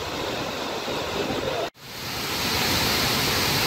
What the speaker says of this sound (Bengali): এখনই এই জলপ্রপাতে প্রচুর জল, বর্ষায় এর রূপ হবে প্রলয়ঙ্করী।